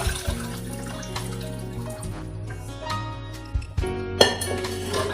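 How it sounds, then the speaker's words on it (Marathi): Reserved mutton cooking water pours into masala for a Kolhapuri mutton curry, a steady close splashing flow with light clinks of a vessel against the pan, and no talk. "मसाल्यामध्ये मी आता आपण मटणाचं शिजवून घेतलेलं पाणी साईडला ठेवलं होतं"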